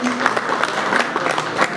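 Audience applause marking a loan facility signing ceremony between NMB Bank and CDC Group, a dense, loud burst of clapping sustained throughout with a faint crowd murmur beneath.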